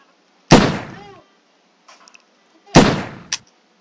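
Two loud, sharp gunshots in the virtual reality game Hand Simulator, about two seconds apart, each with a short echoing tail, and a few faint clicks and taps between them.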